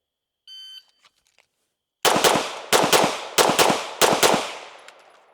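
A handgun fires four loud, sharp shots at a shooting range, evenly spaced with short ringing decays, after a brief electronic beep and a moment of quiet.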